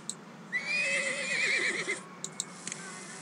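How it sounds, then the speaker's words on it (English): A Przewalski's wild horse neighs in the Zoo Tycoon game, a single clear whinny with a wavering, trembling pitch lasting over a second, followed by a few small clicks. "Love that Przewoski's wild horse."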